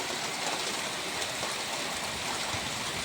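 Steady rain falls on a flooded Bengal village yard and pond, a dense, even hiss that holds without pause throughout.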